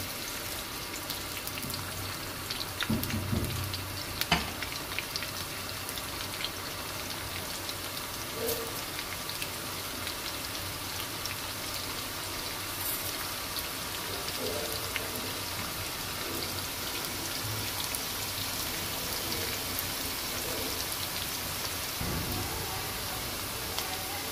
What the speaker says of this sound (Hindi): ऑयल गर्म हो गया, इसमें हम प्याज डालेंगे